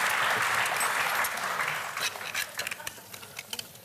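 A studio audience claps at a TV cooking show, with a dense burst of applause that thins into scattered, fading claps.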